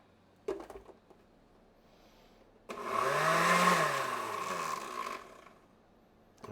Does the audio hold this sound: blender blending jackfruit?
yes